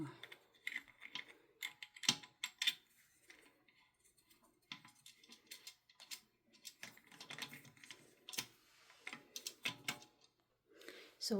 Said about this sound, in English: then I'm just tightening it with a wrench, like so